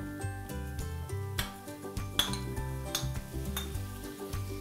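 Cooked mutton is stirred into softened onions in a pan, with soft sizzling and a few scraping knocks, under steady background music.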